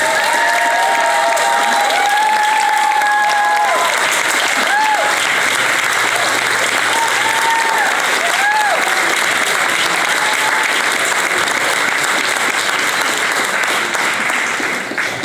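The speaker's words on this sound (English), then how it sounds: "Everybody give a round of applause for Andrew Valinsky." A sustained round of loud audience applause and some cheering for Andrew Valinsky at an awards event, dense clapping continuing steadily, with tonal voices or whistles briefly rising early on.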